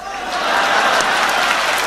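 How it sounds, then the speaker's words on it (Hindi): Audience applause at a mushaira in Bhiwandi, a steady wash of crowd clapping that rises and holds for about two seconds at a lively level. "आपको मेरी कविता पे तालियां बजानी ही होंगी"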